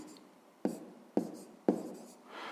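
A pen or chalk writes a fraction by hand in a maths exercise, with three sharp, evenly spaced taps followed by short scratchy strokes, close and clear with no voices.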